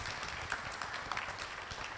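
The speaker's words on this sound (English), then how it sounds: "Another round of applause for them as they take their group photo" Audience at a conference session applauds the panelists with steady, dense clapping that fills the room evenly, loud and continuous with no pauses.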